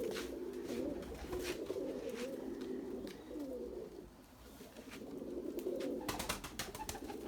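A flock of pigeons coos continuously on an evening in Izmir, a soft layered burble of many birds nearby with faint clicks and flutters toward the end.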